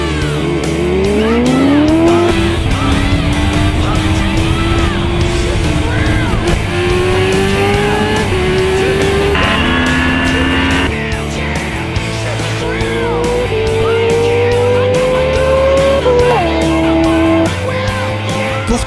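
A Kawasaki H2R and a Suzuki Hayabusa drag race, their engines rising in pitch through repeated gear changes. The high-revving whine sounds loud and sustained, with brief shifts and faint tire noise.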